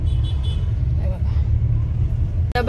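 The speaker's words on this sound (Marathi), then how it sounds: "डबल डेकर गाडी बघा." A double-decker bus rolls past in Mumbai city traffic near the Taj Hotel and Marine Drive, heard as a continuous low engine rumble from inside a car, while people talk over it.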